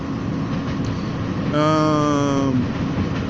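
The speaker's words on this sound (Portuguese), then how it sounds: "vocês estão ouvindo o barulho de trem, tem uma estação de trem aqui atrás da universidade" A train rolls through a station behind a university campus, a steady rumble with a rising horn-like tone that swells for about a second midway, heard at a moderate distance in the open.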